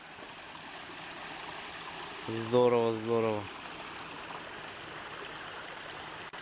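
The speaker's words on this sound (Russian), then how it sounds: "Ручей, красота, можно отдохнуть сейчас." A stream flows beside the Volga riverbank with a steady, close rushing wash throughout, and someone speaks briefly in the middle over the water.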